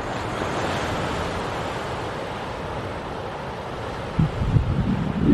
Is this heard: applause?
no